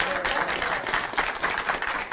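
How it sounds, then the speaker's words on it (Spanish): Audience applause at a masterclass, a dense, even wash of clapping throughout with small swells in intensity. "Un aplauso."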